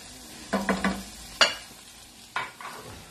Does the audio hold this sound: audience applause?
no